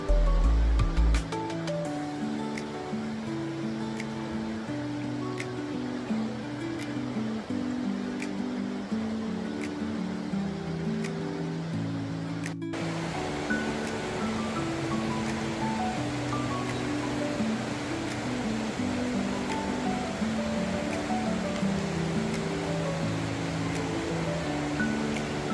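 A cool river flows past a motorcycle campsite with a steady, even rush of water. A low droning tone runs beneath it throughout, and there is no talk.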